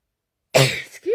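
A single close, loud sneeze from a woman during a live card-making craft session, a sharp burst followed by a brief breathy tail, heard alone without talk.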